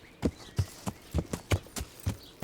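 Horse hooves clip-clopping in the Kingdom Come: Deliverance video game, a steady walking rhythm of about eight close, clear hoof strikes with no talk over them.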